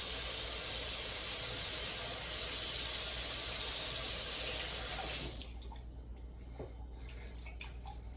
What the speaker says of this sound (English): Put enough water in there to rinse that soup around.